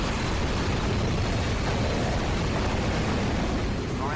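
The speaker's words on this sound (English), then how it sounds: "Ratchet, you will have to use the Landstalker's mortars" Landstalker mortar explosions fill the soundscape of the Ratchet and Clank Deadlocked video game. The blasts merge into a loud, continuous roar of rumbling booms with no pause and no talk.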